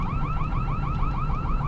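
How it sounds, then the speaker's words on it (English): A store's electronic alarm going off at night, a loud repeating warbling siren with rapid rising chirps cycling several times a second, continuous and close with no talking. "guess that store's alarm has decided to go off"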